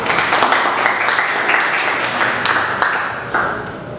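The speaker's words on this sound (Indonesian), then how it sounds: "Berikan tepuk tangan untuk Mbak Nelil." A class in a university teaching session claps for a student. The brief round of applause is moderately loud, with scattered individual claps, and tapers off after about four seconds.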